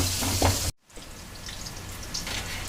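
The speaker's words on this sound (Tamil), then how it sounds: "வெங்காயம் வதங்கி, பச்சை மிளகாய், தக்காளி." Onions sautéing in a pan for a Sunday home lunch, with a steady close sizzle and crackle of frying that continues after a brief silent gap early on.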